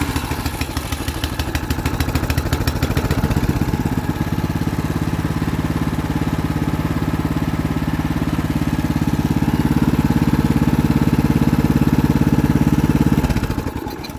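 An old abandoned Murray snowblower engine starts and keeps running, loud and close. It chugs fast and steady with a mechanical clatter, then cuts off near the end.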